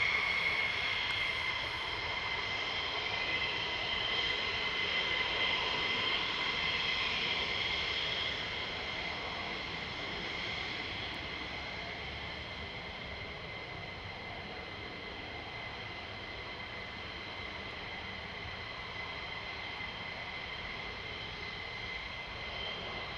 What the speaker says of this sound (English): a few aeroplanes as well, and it happens to be F-15s